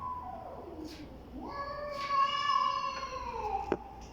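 A mother cat guarding her four kittens lets out a drawn-out, rising meow that swells into a loud, wavering wail, close by and alone over a quiet background.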